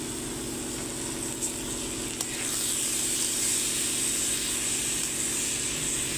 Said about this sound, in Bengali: দিয়ে এখন চালটাকে ভাজা ভাজা করে নেব ঘিয়েতে